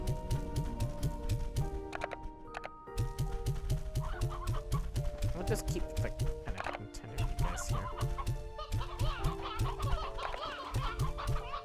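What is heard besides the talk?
hens clucking in Slime Rancher 2 video game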